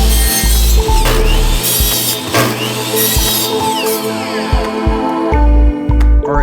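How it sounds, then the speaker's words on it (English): A miter saw cuts 45-degree wood pieces for a small catch-all box, loud and close with several sharp bursts of blade noise through the wood and no talking. "next you'll want to cut the 45-degree pieces on the miter saw."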